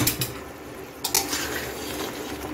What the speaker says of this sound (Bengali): এখন আমি ভেজে রাখা আগের থেকে পটলগুলি দিয়ে দিচ্ছি।